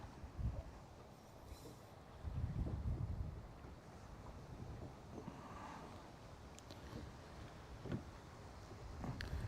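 Wind on a lake at Smith Lake during a fishing outing, gusting in low rumbling bursts against the microphone, with faint water and boat sounds beneath and nobody talking.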